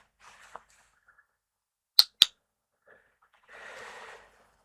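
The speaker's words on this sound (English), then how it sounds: "So I have in my hand this fancy little clicker. So when I use it, it sounds like this." A small handheld clicker gives two sharp, close clicks in quick succession, set against soft breaths and quiet rustling in an otherwise hushed room.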